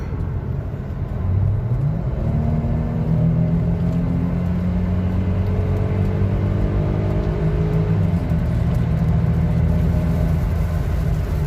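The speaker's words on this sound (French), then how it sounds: "là je ne sais pas si on peut entendre le bruit du moteur" A car engine revs up and accelerates, its pitch climbing through several gear-like rises, loud and close with a steady road rumble beneath.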